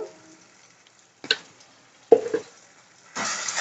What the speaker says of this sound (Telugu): ఈ పసుపు నూనెలో వేగాలి.